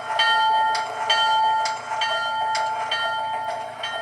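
An MTH model train's electronic bell rings in steady repeated strikes, about one per second, clear and fairly close, with a sustained tone running underneath.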